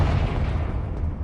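A Confringo blasting spell explodes in the video game Hogwarts Legacy, heard as a single loud, deep, sustained boom that fills the whole moment with no voices.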